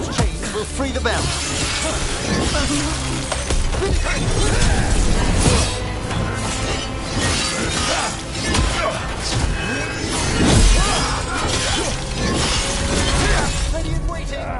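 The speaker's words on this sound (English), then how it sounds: "Shattering those chains will free the bell." In Dragon Age: The Veilguard, chains shatter to free a bell: loud, sustained metallic clattering and grinding mechanism noise with crashing bursts, under game music and effects.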